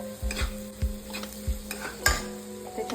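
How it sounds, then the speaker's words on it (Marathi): Ginger-garlic paste stirred into onion and carrot frying in a pan, with a steady sizzle under repeated scraping strokes of a spoon about every half second, close and fairly loud, no talk. "आता ह्याच्यामध्ये आलं लसूण पेस्ट टाकते मी कांदा गाजर चांगला शिजलेला आहे"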